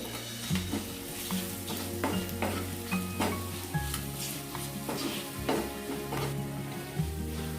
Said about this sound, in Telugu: ఇవన్నీ వేసుకున్నాక బాగా ఒకసారి కలుపుకుంటూ ఫ్రై చేసుకోండి